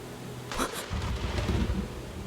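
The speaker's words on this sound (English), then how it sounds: "Thunder" Thunder in the video game Limbus Company: a short, low rumbling crack with rain-like hiss, fairly close and moderately loud, lasting about two seconds with no speech.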